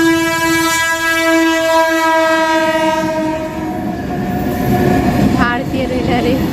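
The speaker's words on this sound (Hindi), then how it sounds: "अभी हम रेलवे फाटक में हो दे अभी रेलगाड़ी आने वाली है" A goods train on Indian Railways passes a railway level crossing, its horn blaring a long loud blast over the heavy rumble and clatter of wagons close by.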